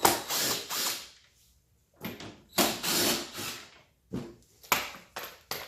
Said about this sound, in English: we're going to go ahead and take the screws out